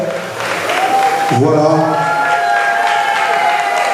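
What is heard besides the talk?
audience applause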